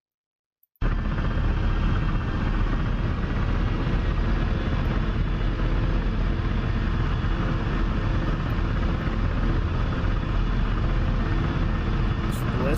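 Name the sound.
Ka-50 helicopter flying in DCS video game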